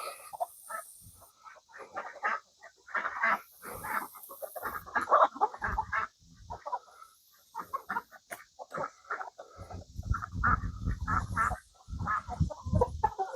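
Chickens cluck and chatter in irregular bursts out on fresh grass pasture, a moderately close flock with scattered calls overlapping, plus a low rumbling thud partway through.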